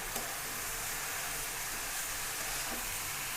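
Chili and turmeric powder sizzle in a pan for a vegetarian dish, a steady loud frying hiss throughout with a couple of faint spoon scrapes as it is stirred.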